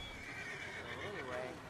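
Horse whinny in Red Dead Redemption 2, a rising and falling neigh heard moderately close over game ambience, with someone talking alongside it.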